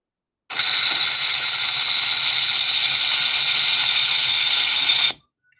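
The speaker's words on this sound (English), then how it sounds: "That's right, it's a rattlesnake." Rattlesnake shaking its tail rattle, one continuous loud dry buzzing hiss for about five seconds, starting and stopping abruptly, alone with no talk.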